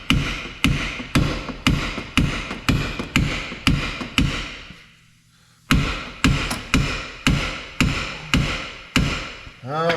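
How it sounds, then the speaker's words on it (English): A big red hammer pounds a suspension part on a 1993 Mark VIII in loud, sharp metallic strikes in a fast, steady rhythm, pausing briefly midway before resuming. "Let's go to the big red hammer."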